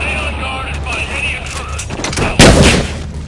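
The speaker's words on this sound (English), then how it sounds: "We're hearing gunfire." Gunfire in Metal Gear Solid V: a sharp loud burst of shots lands late, following a stretch of radio chatter and background rumble.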